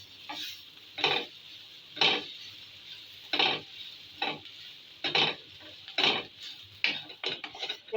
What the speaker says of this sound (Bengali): এখানে দুই টেবিল চামচ আটা নিচ্ছি একটু ভেজে নিব যে দুই মিনিট ভেজে নিছি তাহলে আটার গন্ধটা থাকবে না এখন মিক্স করে নিব ভালো করে